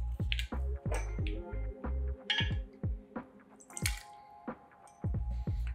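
Gin poured into a cocktail shaker for a Last Word cocktail, heard as a series of close, distinct liquid drips and splashes with small clicks in an uneven rhythm.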